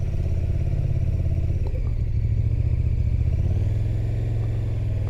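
A motorcycle rides along the South Loch Ness Trail, a narrow road by Loch Ness, its engine droning steadily and loud throughout, with a brief clatter near the middle and a slight shift in pitch toward the end.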